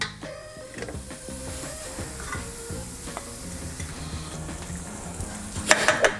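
Beef for salpicao frying in a pan: a steady, soft sizzle runs beneath utensil stirring and light scraping, with a brief sharper clatter near the end and no talking.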